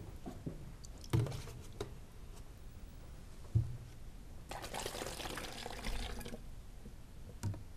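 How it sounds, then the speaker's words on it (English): Two cups of water are poured from a measuring cup into a container, a faint trickle and splash with a few clunks of the cup, and a louder stretch of pouring midway. "So you put in 2 cups of water in there. 2 cups of water, 2 cups with a measuring cup."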